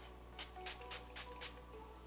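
Five quick, soft spray bursts of a facial mist in a steady rhythm, close by and faint, each a short airy hiss.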